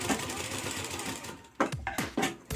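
Sewing machine stitching fabric rings, a rapid whirring run of stitches up close, followed by several short bursts of stitching with brief pauses between them.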